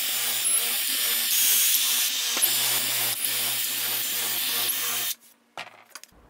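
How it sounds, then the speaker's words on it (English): Power drill countersinking holes in wood for a storage bench build, a steady loud whirring with repeated short pulses for about five seconds, then stopping abruptly into quiet handling noises. "I'm just going to countersink some holes"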